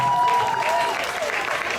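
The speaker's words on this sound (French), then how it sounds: "Est-ce qu'on peut applaudir pour lui également?" An audience breaks into applause at a gathering where people are asked to clap for a Swiss guest; dense, steady clapping runs throughout with a faint voice or tone at the start.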